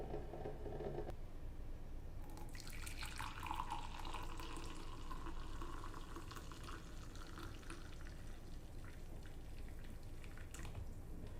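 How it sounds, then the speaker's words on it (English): Cold water heats in the tank of a BUNN BXB Velocity Brew 10-cup coffee brewer, making a faint, continuous hiss and low bubbling that holds steady throughout. "The cold water we poured in the tank is being heated up."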